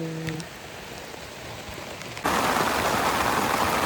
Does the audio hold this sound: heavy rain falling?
yes